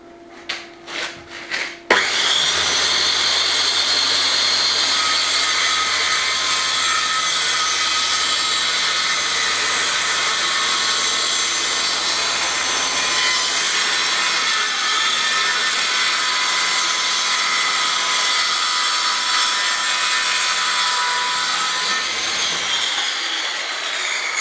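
Power saw cutting wood along a guide during a Spanish farmhouse renovation, a steady loud whine running continuously for over twenty seconds after a few brief opening knocks, close and alone with no talk.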